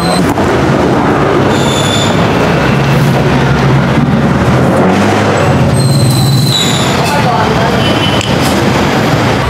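An elevated MRT train rumbles overhead along Doña Aurora Boulevard, heard from inside a Lalamove delivery truck as a steady, dense roar of rail and traffic noise throughout.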